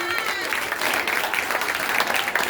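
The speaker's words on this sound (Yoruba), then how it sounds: "Ẹ bá mi pàtẹ́ fáwọn olùkọ́ yìí." A school assembly crowd claps steadily for a couple of seconds, a dense, even patter of applause throughout.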